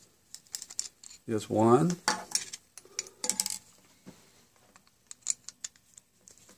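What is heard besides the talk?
removing Phillips pan head screws with a number one Phillips screwdriver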